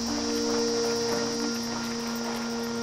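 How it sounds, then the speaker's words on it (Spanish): Cicadas chirp in the farming game Yonder, a steady shrill insect drone held evenly across the whole stretch under a faint ambient hum, with no voices. "Mira, se escucha hasta las chicharras."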